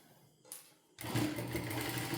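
After a brief quiet handling sound, a sewing machine starts stitching fabric set with beads and stones, running loud, close and continuous until the end.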